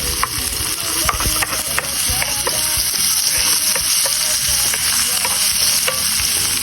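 Garlic, onion and ginger sauté in a hot pan, sizzling steadily while a utensil scrapes and clicks against the pan in a fairly regular rhythm; no one speaks.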